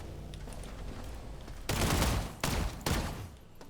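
A sentry turret in the 2023 System Shock, on the Security level, firing three loud, close bursts of rapid gunfire after a quieter stretch of background noise.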